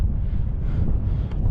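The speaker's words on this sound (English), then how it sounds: "It's quite windy up here." Strong wind buffets the microphone on an open fell in Northern Lapland, a steady, loud low roar with gusty swells throughout and no speech.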